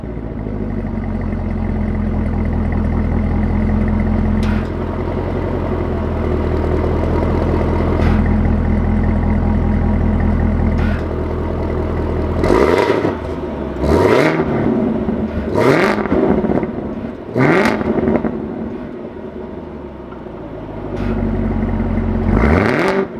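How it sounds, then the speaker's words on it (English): A loud Chevy Camaro ZL1 1LE engine idles with a supercharger whine, then revs sharply several times in quick bursts, the exhaust barking and crackling between blips. "so you guys can hear like the supercharger with the exhaust"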